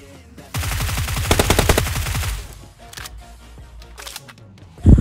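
Rapid automatic gunfire in a battle royale video game rattles in a dense, loud burst of about two seconds, followed by a few scattered single shots and clicks.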